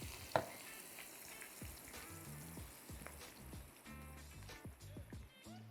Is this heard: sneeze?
no